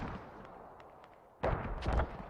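Mortar fire in a tactical military video game match, a muffled distant boom followed by a louder burst and rumbling impact, short and sharp against low background noise.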